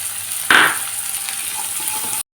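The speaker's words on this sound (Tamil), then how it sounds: "பச்சை பட்டாணி போட்டு நல்லா வதக்கியாச்சு." A steady hiss of green peas frying in a pan with a brief louder sizzle burst near the start, then continuous crackle; no talking.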